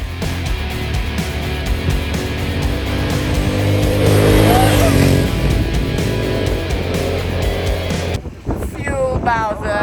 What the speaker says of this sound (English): We are about to get the Andre wheelie show